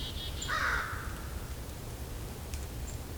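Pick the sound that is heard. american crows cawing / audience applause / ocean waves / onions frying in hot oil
american crows cawing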